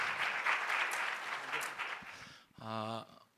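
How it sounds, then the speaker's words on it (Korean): Church seminar audience applauds to welcome a speaker, a steady wash of clapping for about two and a half seconds that fades as a voice begins. "큰 박수로 맞이해주시기 바랍니다"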